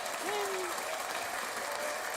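A canned applause sound effect played by a host, steady crowd clapping at even loudness throughout, with a voice talking over it.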